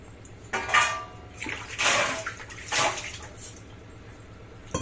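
Water pours into a cooking pot of tamarind stew in three or four short splashing bursts, close by, with brief pauses between them.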